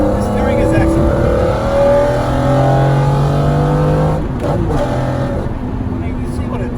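A McLaren F1 road car being driven, its engine note rising smoothly through gentle acceleration from inside the cabin, with people talking over the steady drone.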